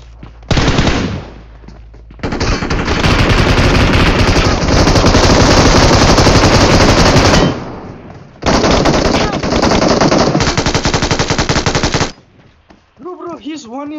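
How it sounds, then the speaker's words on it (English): Heavy gunfire in the PUBG Mobile battle royale game on the Erangel map: long sustained bursts of rapid automatic fire, loud and close. They cut off briefly near the middle and again near the end, with a faint voice at the close. "Oh, they're shooting."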